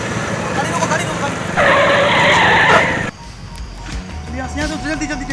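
A vehicle brakes hard to a stop, a loud sustained tire skid lasting a little over a second, followed by an engine rumble and people talking.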